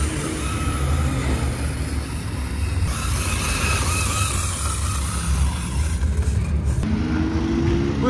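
Nissan S15 car engine at a Japanese car meet on the streets of Reading, a loud steady engine roar as it drives past nearby, then a shift in tone near the end as it moves off.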